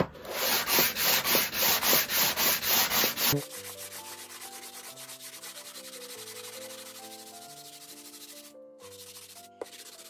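Wood on a Louis Philippe secretary being hand-sanded with 120-grit sandpaper, about ten loud rhythmic back-and-forth rasping strokes close up, then stopping, followed by quiet background music.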